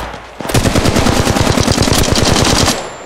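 Rapid automatic gunfire from Apex Legends Mobile, a sustained burst of evenly spaced, loud shots rattling off for about two seconds before cutting out, close and alone.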